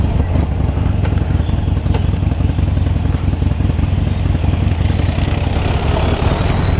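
A Harley-Davidson Sportster motorcycle engine runs loud and close during a ride, a steady low-pitched throb with rapid pulsing exhaust beats and a faint rising whoosh of wind toward the end.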